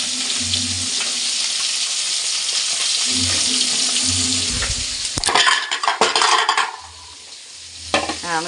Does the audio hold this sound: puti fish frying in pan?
yes